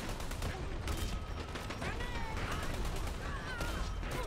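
Video game shooter gunfire, rapid overlapping shots and rattling bursts over constant battlefield noise, moderately loud and unbroken, with a voice faintly mixed in.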